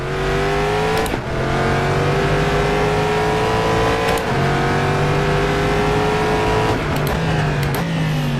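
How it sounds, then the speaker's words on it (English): Corvette C7.R GTE race car engine in rFactor 2 at Sebring, loud and continuous, climbing in pitch through repeated upshifts with brief breaks at each gear change. "How good does the Corvette sound?"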